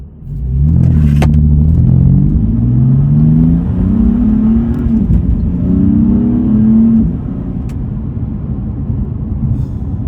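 A stock BMW M4 (F82) engine roars loudly and climbs in pitch through several gear changes, each rising whine cut by a brief drop, then settles into a steady cruising hum.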